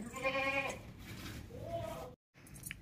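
A milking goat weighing about 51 kg bleats loudly and close by, one long wavering call followed by a shorter rising one, with faint background noise.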